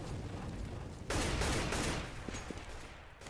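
Gunfire in a CS:GO match on the Cobblestone map, a dense burst of shots from about one second in that fades over the next two seconds above steady background game noise.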